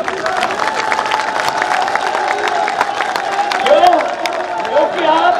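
A large crowd claps and cheers at a public foundation-stone ceremony in Gwalior for development projects. The applause is steady and dense throughout, with a murmur of voices mixed in.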